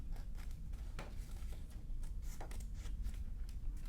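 Scissors snip through paper up close, a series of crisp, irregular cuts with light rustling in between.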